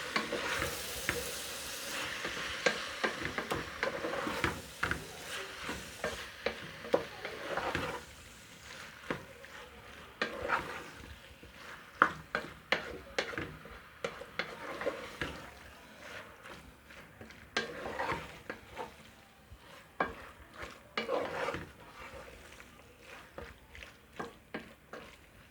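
Turnip stir fry (shalgam bharta) is stirred in a pan, with a quiet sizzle under repeated scraping and knocking strokes of the spoon over a long stretch and no talking.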